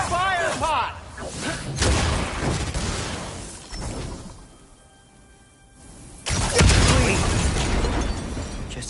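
A fire pot explodes in God of War Ragnarok on PS5. Booming bursts and whooshing blasts hit at the start and again near the end, with character voices talking over the action.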